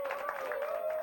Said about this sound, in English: A round of applause for Uncle Leo.